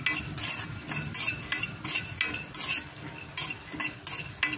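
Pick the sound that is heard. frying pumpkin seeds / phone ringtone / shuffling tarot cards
frying pumpkin seeds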